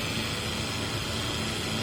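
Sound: BLDC motor running a solar-powered pond paddle-wheel aerator

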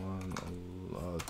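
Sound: typing on a computer keyboard

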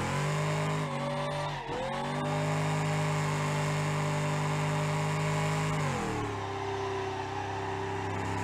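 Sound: truck burnout tire squeal in BeamNG.drive video game

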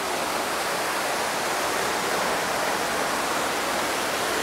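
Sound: waterfall

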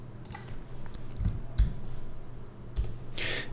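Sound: typing a folder name on a computer keyboard

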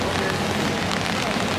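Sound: pouring rain

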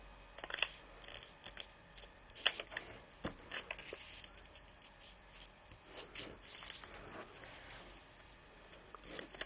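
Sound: folding origami paper to make a diagonal crease

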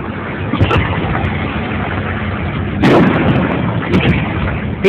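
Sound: fireworks exploding on Fourth of July

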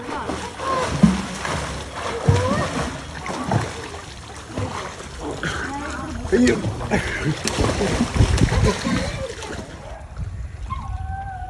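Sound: water splashing from people diving and swimming

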